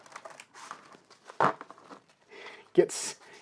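Crinkly papery rustling with a few sharper crunching bursts, close by, mixed with intermittent soft talking.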